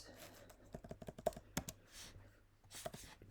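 Search terms typed on a computer keyboard, a short run of quick key clicks with a sharper tap partway through and a brief final burst, near and quiet, without speech.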